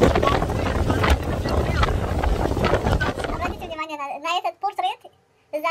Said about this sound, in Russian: Какой ветер в Санкт-Петербурге.